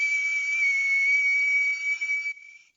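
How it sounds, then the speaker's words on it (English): A person whistles a single steady, sustained pure tone close into a microphone, clear and loud, holding for over two seconds before wavering and fading out. "Okay, now if I whistle,"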